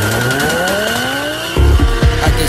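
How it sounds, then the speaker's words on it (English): Car doing burnouts at Killarney race track, a high engine rev climbing in pitch, then sharp rough bursts of tire noise and revving pulses close by. "sound of burnouts with Killarney"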